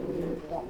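A caged pigeon at a breeding farm coos in a steady, low, throaty murmur that runs unbroken through the short stretch, fairly close and moderately loud.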